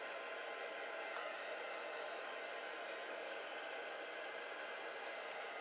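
A heat tool on its low setting blows over cardstock as it dries, a steady, close, unbroken airy whoosh at constant loudness with no speech.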